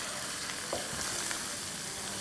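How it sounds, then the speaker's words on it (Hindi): Onions with salt, spices and a spoonful of water frying over medium-high heat for aloo ki sabzi, a steady close sizzle in the pan with occasional stirring scrapes and no talk. "फ्लेम हमारी है मीडियम हाई और इसकी हम भुनाई करेंगे 2-3 मिनट।"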